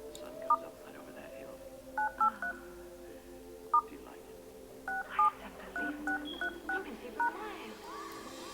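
A Gabb phone keypad sounds short dial tones as a code is entered, single beeps and quick pairs in an irregular rhythm, while someone talks throughout.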